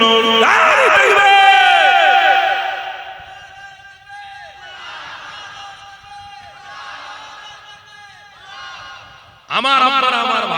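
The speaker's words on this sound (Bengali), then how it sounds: "আরো জোরে বলুন নারে তাকবীর" A crowd at an Islamic sermon shouts takbir together in a loud, ringing chorus that fades out, is followed by quieter chanting, and then swells up loud again at the end.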